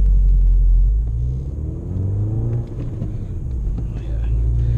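A Volkswagen GTI pulls away on a race track, its engine a loud, steady low rumble that dips briefly and then swells again, heard from inside the car with faint speech.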